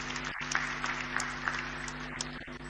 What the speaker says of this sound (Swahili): Naomba tumshangilie kwa makofi mengi tafadhali.